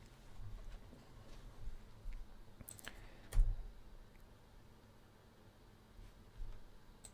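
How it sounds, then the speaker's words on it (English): A few faint, sparse key clicks on a computer keyboard in a quiet room, with a slightly louder tap near the middle, as if a short command is typed. "Type help for options."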